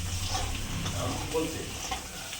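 Ghee fries in a pan for a mixed pulao, giving a soft, steady sizzle with faint scraping and light stirring clatter, close by, without any talking.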